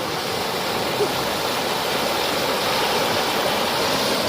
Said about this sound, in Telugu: చూడండి కట్టెలు అవి పోతున్నాయి అంటే వాగు వస్తుంది భయంకరంగా వస్తుంది